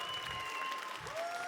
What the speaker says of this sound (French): Donc les applaudissements, c'est cool, hein, on applaudit tous les gens qui viennent